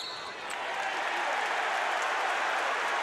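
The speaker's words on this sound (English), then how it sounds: "Crowd giving some encouragement to the refs" Basketball arena crowd at a college game, Utah State at Boise State, roaring steadily at the referees, a dense continuous cheer that swells slightly and holds at full volume.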